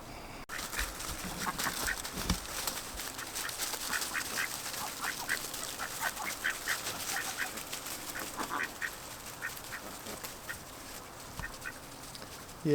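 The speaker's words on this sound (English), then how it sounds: "I don't think the string keeps the ducks out." Ducks quack repeatedly outdoors in a farmyard where geese are also kept, a busy layered chorus of mid-distance calls with no talking over it.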